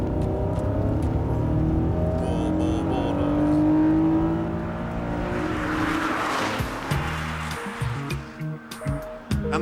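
Engine of an aluminium-bodied 2000-era Honda NSX sports car, a loud revving, accelerating drone that climbs in pitch, then shifts and surges again with tire squeal and quick throttle blips toward the end, heard alone without talk.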